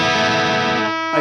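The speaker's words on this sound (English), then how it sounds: "There's always a little bit of distortion happening here." Peavey Triple XXX guitar amp played through a Marshall 1960AV cabinet miked with an SM57, with slight distortion: a sustained, gritty, harmonically rich guitar chord rings steadily and loudly, then cuts off abruptly near the end.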